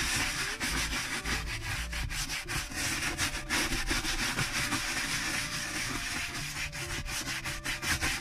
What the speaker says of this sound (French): Et on frotte. On n'a pas peur, c'est une brosse à poils souples.